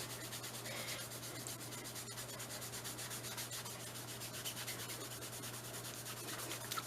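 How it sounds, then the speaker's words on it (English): A laser-engraved acrylic sheet is rubbed to lift black paint, giving a steady close scrubbing rasp in fast even strokes over a low constant hum, with no speech. "Just rub it a little bit."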